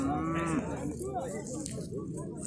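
A cow moos loudly and close, a long drawn-out low call, followed by quieter bovine calls amid the bustle of a crowded livestock market in Gulcho, Alay.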